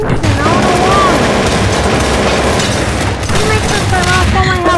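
Rapid gunfire and booming blasts from the video game Prop Hunt fill the clip at high volume, dense and continuous, with excited voices talking over it.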